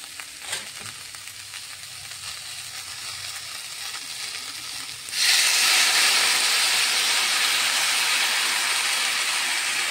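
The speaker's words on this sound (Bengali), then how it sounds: "সবজিটাকে তো এখন আমি জল দিয়ে দেব।" Water hits a hot pan of dry fish and vegetable curry. A quiet simmer suddenly erupts into a loud, steady sizzling hiss that carries on to the end.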